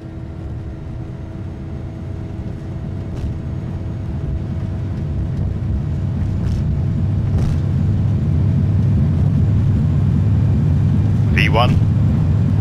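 An airliner rolls down the runway for takeoff in a flight simulator game, with a broad steady engine roar building gradually louder, a few faint ticks, and a brief electronic chime near the end.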